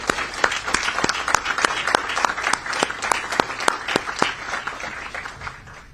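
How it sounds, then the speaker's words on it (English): An audience at a police and National Guard partnership event gives a round of applause honoring the U.S. Army, dense steady clapping from many hands, loud and sustained, with faint talk underneath and tapering at the end. "Let's give them a round of applause"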